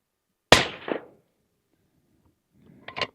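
Two rifle shots from a hunting cartridge ring out outdoors about two and a half seconds apart. Each is a sharp, loud crack with a short echo, and the second sounds a little fainter and more distant.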